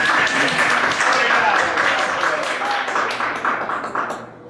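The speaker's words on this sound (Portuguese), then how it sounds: "Vou pedir aqui uma salva de palmas para o Marcelo." An audience applauds a design-thinking speaker at the close of a talk, dense clapping from many hands that holds steady and then thins out and fades toward the end, with some voices mixed in.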